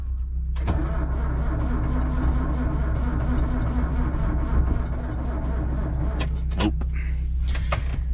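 An old farm tractor that has sat unused, its engine cranking on a weak battery: a close, rhythmic starter grind lasting several seconds without catching, followed by a few sharp clicks and rattles.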